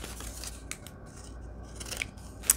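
Small scallop-edged scissors cut through paper scrap at a craft table, producing a few crisp snipping and crunching strokes, close and fairly quiet, with no talking.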